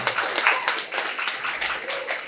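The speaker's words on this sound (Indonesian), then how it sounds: "Tepuk tangan dulu dong." Audience applause at a motivational work-ethic seminar, a dense patter of clapping hands lasting a couple of seconds with some crowd noise mixed in.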